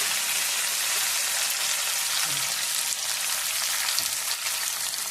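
Rice kundra vegetable frying in two ladles of hot oil with salt, a steady dense sizzle that holds at an even, fairly loud level throughout with no voices.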